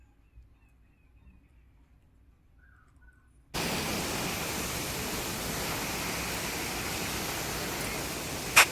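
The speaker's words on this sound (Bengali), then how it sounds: "জলটা যে সিঁড়ি দিয়ে পড়ছে দেখুন কত সুন্দর লাগছে ঝর্নার মতো লাগছে পুরো দেখতে" Water overflowing a temple dam and tumbling down its stone steps like a waterfall sets in abruptly partway through as a loud, steady rushing roar, after a quiet stretch of faint outdoor ambience.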